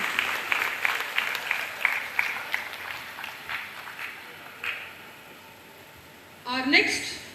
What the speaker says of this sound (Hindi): प्लीज जोरदार तालियों से इनका स्वागत कीजिए।